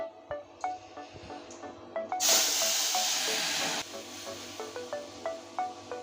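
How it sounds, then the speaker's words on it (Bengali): Red lentils go into hot mustard oil tempered with five-spice and set off a loud, close burst of sizzling that lasts under two seconds. Quiet, light ticking and clicking sounds from the pan come before and after. "দেখুন ফোড়নটা রেডি হয়ে গিয়েছে আমি এবার মসুর ডালটা ঢেলে দিচ্ছি"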